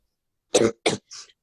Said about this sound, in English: HG collapses to the ground in a coughing fit